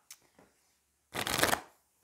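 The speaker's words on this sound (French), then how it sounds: "allez, je les mélange" A deck of cards gets shuffled by hand during a tarot-style reading, two light taps followed by a dense, close riffling burst of about half a second, with no talk over it.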